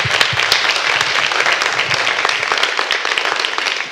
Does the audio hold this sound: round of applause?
yes